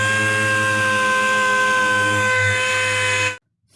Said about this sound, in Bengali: ফার্স্ট স্টেপ সুন্দর করে আপনারা ঘষে নেবেন।